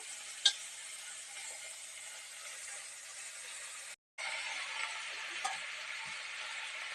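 Small chumur fish frying in a pan gives a quiet, steady sizzle with a few soft clicks of stirring and a momentary break partway through. No one speaks.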